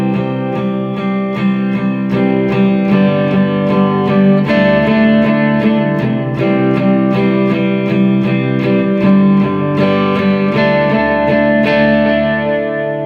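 Guitar plays a song from Red Dead Redemption 2, strummed chords loud and full with a distorted, chorused tone, the progression cycling through twice before a final chord is held and rings out.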